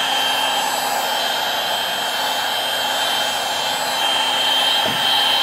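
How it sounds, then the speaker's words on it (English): Heat gun blowing over glue on a car door sill, a steady close airy whoosh with a constant hum running unbroken throughout, no talk. "So I'm throwing the heat gun over this."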